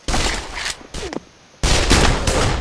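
Sniper rifle shots in Pavlov VR scoring a headshot: loud, close cracks separated by a brief near-silent gap, then a sustained roar of fire.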